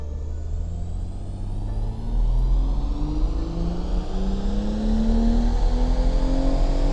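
A BMW M140 on a dyno accelerates steadily under load, its engine note rising smoothly in pitch through the gears with a deep rumbling drone, loud and close with no talking.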